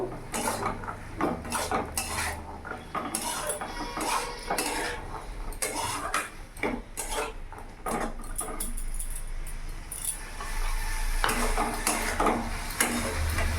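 Mushroom and pea masala stirred in a pan, with repeated close scraping and clinking of a metal spoon against the pan in irregular strokes, and a soft sizzle building underneath toward the end, no voices.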